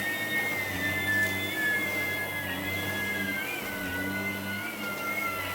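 A Shark auto-detect vacuum cleaner runs on carpet with a steady, close motor whine and whirring drone that holds constant throughout.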